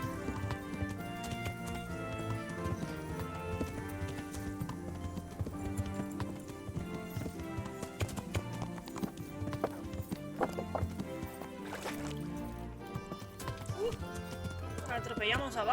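A horse's hooves clip-clop steadily in the medieval game Kingdom Come: Deliverance, mixed with a whinny and game music, while someone talks over the top throughout.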